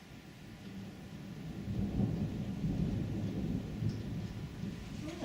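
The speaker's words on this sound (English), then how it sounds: "Nice little storm." A thunderstorm with steady rain and rolling thunder swelling in the low end. It builds from a quieter start into a continuous soft rumble heard alone at a distance.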